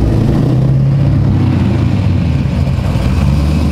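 Corvette C6 Z06 with a carbon fiber roof, its V8 running loud and close with a deep, steady throbbing rumble that holds at an even level throughout, with no talk over it.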